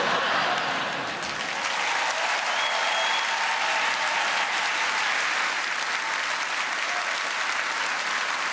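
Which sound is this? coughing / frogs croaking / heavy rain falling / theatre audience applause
theatre audience applause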